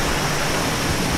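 A waterfall pours in a steady, dense rush of white-noise roar that stays constant throughout, close and loud, with no voices.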